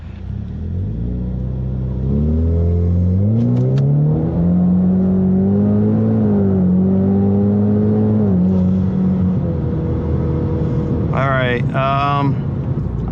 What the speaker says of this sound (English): I still spun because I didn't quite launch the car the way I wanted to.